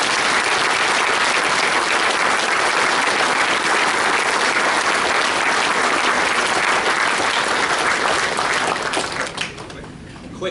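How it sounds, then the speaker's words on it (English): Sustained, dense applause from a dinner audience at an annual dinner, loud and steady throughout before thinning out near the end. "And please give them a round of applause again."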